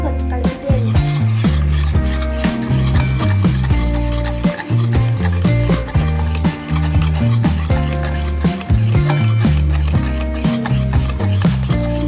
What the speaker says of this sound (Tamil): கைவிடாமல் கலக்கிட்டே இருக்கணும்.